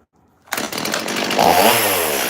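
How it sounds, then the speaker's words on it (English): Chainsaw starting up and running steadily during the carving of a morel mushroom sculpture, a loud, close, continuous buzzing engine roar with no one talking. "never pick up a chainsaw for any reason, not even to move it"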